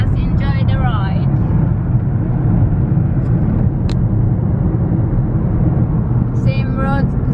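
Car driving along a road at steady speed, with a constant low rumble of engine and tyre noise throughout and brief faint chirps of birds outside.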